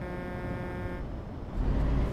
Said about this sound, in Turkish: Kardeş hemen kornaya asılma